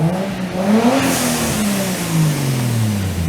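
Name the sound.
2JZ Toyota Aristo turbo engine running and revving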